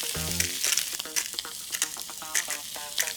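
Salmon fillet frying skin side down in a hot pan, giving a steady close sizzle with irregular crackles and pops over about three seconds, no talk.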